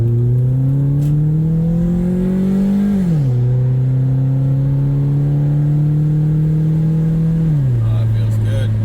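A 2009 Pontiac Vibe engine revving hard under heavy acceleration, climbing steadily, dropping at a gear shift around three seconds, then climbing again before another shift near the end, loud and close from inside the car.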